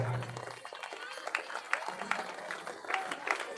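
An audience at a village Ram Katha gathering applauds with scattered, uneven clapping, moderately faint, while a voice speaks over it.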